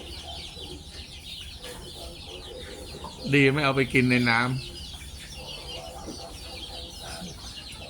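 A hen on a small Thai egg-laying poultry farm lets out a loud burst of rapid, squawking clucks lasting just over a second, close by, with quieter background sounds and faint talk before and after.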